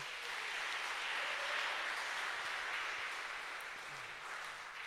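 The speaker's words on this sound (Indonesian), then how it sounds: "Mari tepuk tangan buat semua" Faint, steady applause from a youth church service congregation, a dense wash of clapping that holds evenly for several seconds.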